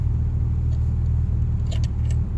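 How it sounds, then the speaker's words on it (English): A 1968 MGB's engine barely idling, a steady low rumbling drone close by, with a few faint clicks or jingles on top and no talking. "the car is barely idling"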